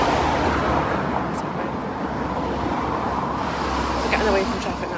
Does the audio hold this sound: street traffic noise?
yes